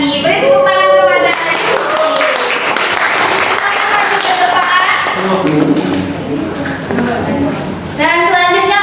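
Students in a classroom clap for a classmate during a lesson, light clapping running beneath a teacher's talk, with children's voices also audible.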